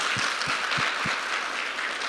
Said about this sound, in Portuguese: a salva de palmas para vocês